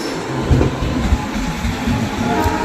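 Indian Railways train hauled by a WAP7 electric locomotive arriving at Pathankot Cantt, a steady loud rumble of rolling stock close by with faint clatter, no talk.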